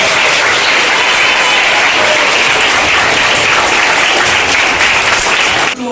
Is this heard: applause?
yes